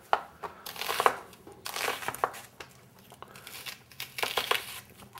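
A knife quickly chopping half an onion on a board while making black bean burgers, a few bursts of crisp crunchy cuts with short pauses between them, close and fairly quiet.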